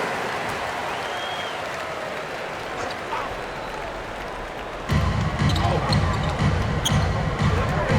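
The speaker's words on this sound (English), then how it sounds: "Let's give them a round of applause for Florida Gators dancers." Arena crowd applauds the Florida Gators dancers during a timeout at a PBA semifinal basketball game, TNT versus Rain or Shine; a steady wash of cheering and clapping swells sharply louder about halfway through, with faint voices mixed in.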